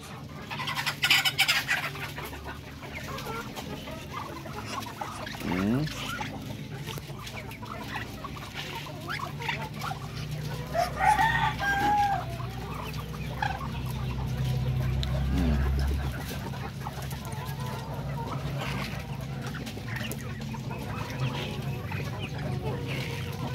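Darag native chickens cluck and call at moderate distance in a farmyard, with intermittent bird sounds over a steady low rumble of background noise.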